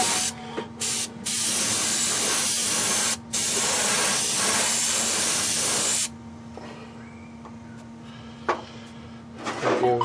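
An aerosol spray can coats stripped model car parts, a primer layer before chrome, in a few long close hissing bursts separated by short breaks, then stops, leaving quiet handling noises.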